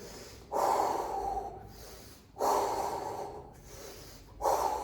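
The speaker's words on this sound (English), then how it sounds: "even though my body speeds up, the breathing is still slow, controlled, deep engagement" Slow, deep, controlled breaths during exercise, each long breath swelling and fading in a steady rhythm, three full cycles heard close to the microphone with no talking.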